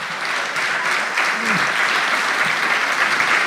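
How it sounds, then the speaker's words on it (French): A studio audience at a comedy talent show applauds in a steady, full wash of clapping throughout, with a brief voice faintly underneath. "applaudissez-le"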